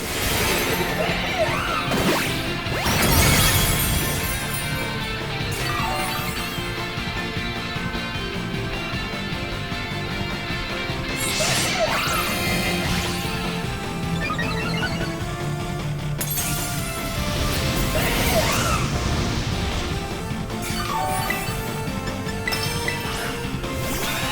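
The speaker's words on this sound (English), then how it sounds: "I'd probably say 1 or 2 more body presses will utterly destroy the shield." A shield breaks under repeated Body Press attacks in the Pokémon Violet video game, heard as several crashing, shattering hits among game music and effects, with a loud burst near the start and further impacts later on.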